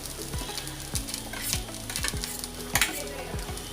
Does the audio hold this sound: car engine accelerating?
no